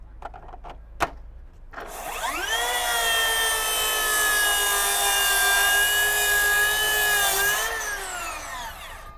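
A Makita power tool powered by a BL4040F tabless battery spins up after a few clicks and runs as a steady high-pitched whine for about six seconds before winding down, close and loud, alone.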